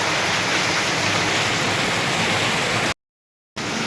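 Heavy storm rain pours outside a fruit shop in Basirhat, a loud, dense, steady rushing roar with a short break of silence near the end.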